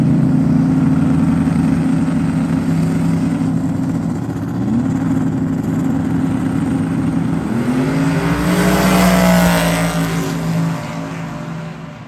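A four-eye Ford Mustang race car at a no-prep drag racing speedway roars loudly and continuously, its engine pitch dipping and then climbing sharply as it accelerates before fading slightly at the end.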